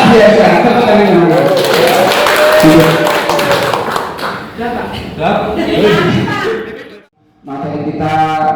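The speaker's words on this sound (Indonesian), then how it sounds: "Tepuk tangan." Students in an Indonesian classroom clap their hands together in a loud, dense burst that tapers off, with voices talking over and after the clapping.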